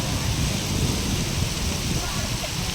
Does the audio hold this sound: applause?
no